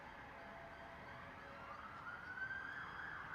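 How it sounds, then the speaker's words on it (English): Police sirens wail faintly in the distance, a steady rising and falling tone that grows slightly louder toward the end. "What are they? Police cars? Yeah, 3 of them."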